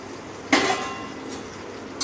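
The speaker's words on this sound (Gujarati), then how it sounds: "હવે આપણે બરાબરથી એને મિક્સ કરી લઈશું વઘાર સાથે" Patra rolls being turned in a pan with sesame-seed tempering, two short metallic scrapes and clinks of a spoon against the pan, the first louder, over a faint background sizzle.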